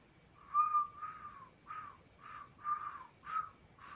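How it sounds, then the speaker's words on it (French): Someone whistling a short series of separate notes, a few gliding tones in a loose rhythm, fairly clear against a quiet background. "Ok, maintenant ça part en sifflement."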